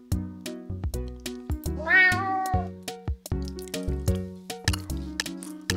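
A video game cat in a Build Battle match meows repeatedly in short, bright calls, one drawn into a longer rising whine, mixed with clicky in-game effects.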